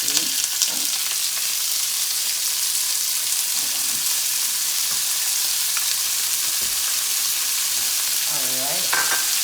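Bacon and kimchi fry together in a single pan, a steady bright sizzle and crackle running throughout, with occasional scrapes and clinks of stirring close by and no talking.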